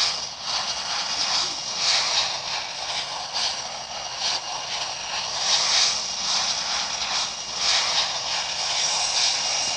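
Aircraft engine from a flight simulator game during a takeoff roll, a steady droning whine with pulsing swells that holds throughout at a fairly loud level.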